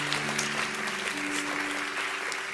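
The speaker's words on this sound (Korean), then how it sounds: "우리 다시 한번 박수로 두 분 축복하겠습니다." A youth group gathering at a Korean Methodist church applauds a pair of guests, steady close clapping from many hands that continues without a break and sits over a faint low hum.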